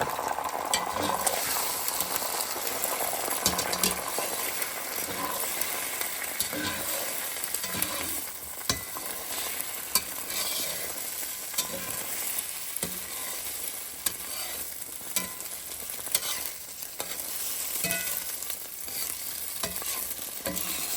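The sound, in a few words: scrambled eggs frying in oil in a cast iron pan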